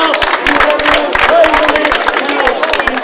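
An outdoor audience at the Trail du Bazadais race in Bazas applauds a winner, crisp individual claps sounding close over a murmur of crowd chatter and a few cheers.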